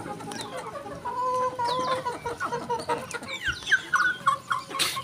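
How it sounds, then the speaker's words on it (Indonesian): Layer hens cluck and squawk excitedly at feeding time, with overlapping calls rising and falling at close range on a farm. "Ini ayam-ayam layer ini."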